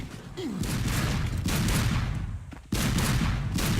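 Loud, dense gunfire from a video game firefight against snipers, with rapid overlapping shots and booms running continuously, dipping briefly before resuming just as heavily.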